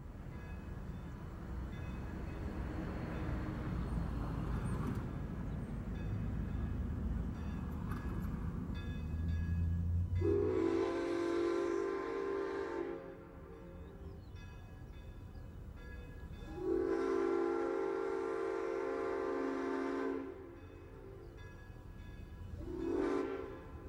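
A former L&N steam locomotive passes with rumbling wheels, sounding its horn in three long blasts, the last one shorter, over steady mechanical clatter.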